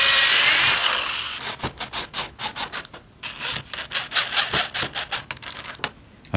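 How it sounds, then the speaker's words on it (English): Power drill driving screws into plywood pieces for crank organ feeder bellows, a whirring burst at the start followed by a run of short rhythmic grinding pulses, close and moderately loud. "I'm screwing the pieces together so I could duplicate features on them."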